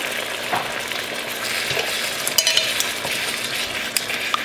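Crushed tomatoes and red pepper paste stirred in a hot pan, with a steady sizzle, a spoon scraping now and then and a few light clinks of utensil against metal, close and without talk.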